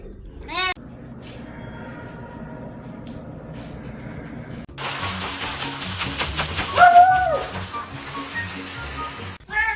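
Cat meowing indoors: a short rising meow at the start, a steady background hum, then a louder stretch of clattering and a wavering meow near the end, closing with another brief cry.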